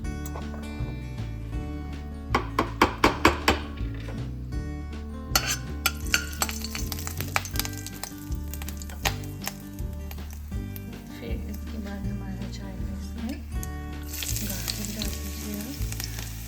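Beans, carrots and garlic fry in a pan with an ongoing sizzle and stirring clinks near the mic, under steady background music, with no voices.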